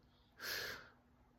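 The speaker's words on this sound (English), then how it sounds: "A gasp." A single sharp gasp, a quick breathy intake of air lasting under half a second, rises close and clear from a quiet background as a sound effect in a Silent Hill horror story narration.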